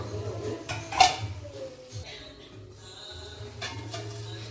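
A spoon scrapes and clinks against a pan while a bitter gourd and onion curry mixture is stirred, close, irregular metallic knocks over a low background hum.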